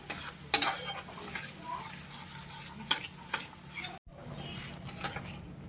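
Masala with curd frying in oil for a restaurant-style dahi vangi, constant low sizzling under scraping spoon strokes and occasional clinks against the pan, close and fairly quiet, no voices.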